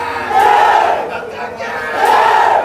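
Fans shout and cheer outside the Ragam Theatre in Thrissur before a fans show, a loud, near crowd roar rising in two surges of massed voices.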